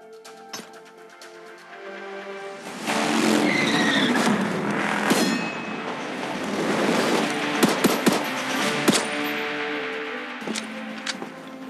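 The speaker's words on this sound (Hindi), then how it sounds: "जो एकदम मतलब रजनीकांत बन के एकदम बाइक घुमा के" A motorbike spins in place with screeching tire skids during the PUBG Mobile Royal Pass season 11 logo animation. A loud, sustained engine roar and squeal build and then carry on, with sharp crackling hits over the top.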